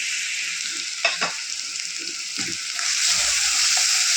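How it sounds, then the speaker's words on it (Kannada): Onions frying with ground ginger, garlic and chilli paste in a pan: a steady bright sizzle that grows slightly louder toward the end, broken by a few soft scrapes and clinks of stirring, with no one talking. "ಈರುಳ್ಳಿ ಚೆನ್ನಾಗಿ ಫ್ರೈ ಮಾಡ್ಕೊಳ್ಳೋಣ"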